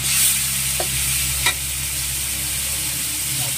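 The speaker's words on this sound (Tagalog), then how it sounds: "Mas masarap kasi pag binigisa yung bagoong." Filipino shrimp paste (bagoong) sautéing in a pan for pakbet, a loud continuous sizzle broken by a couple of sharp utensil scrapes and stirs, no talking.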